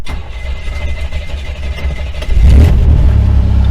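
A carbureted car engine at a dealer auction idles unevenly, then catches and rises into a louder, steady rev partway through, close and dominant with no talk.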